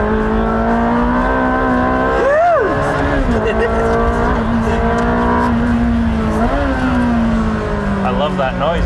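A supercar on a racetrack holds a loud, sustained engine drone, with a sharp rise and fall in pitch as it revs and tires squeal briefly. People talk over it.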